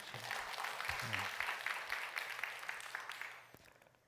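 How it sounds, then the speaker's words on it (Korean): A church congregation at a Wednesday worship service claps together in steady, moderately soft applause that lasts a few seconds before fading out. "순산하라고 박수 한번 쳐줘요"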